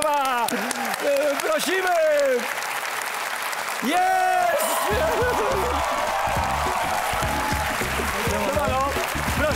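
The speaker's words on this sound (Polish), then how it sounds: "Wielkie brawa!" A television studio audience breaks into loud, sustained applause and cheering, while excited voices shout over the clapping early on.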